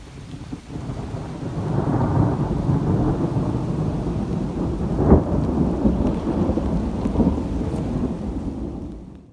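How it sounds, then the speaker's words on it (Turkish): Steady rain pouring with a deep, rumbling roll of thunder building and lingering, heavy and continuous throughout before fading at the end. "günün sonunda yağmur yağdı şimşek çakıyor"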